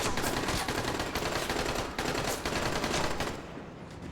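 Heavy gunfire in Dying Light: The Following, a dense, continuous stream of rapid shots with loud, rattling bursts that fades near the end.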